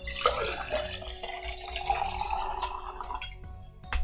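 Water runs and drips loudly and continuously for about four seconds, with a steady tone humming underneath the splashing.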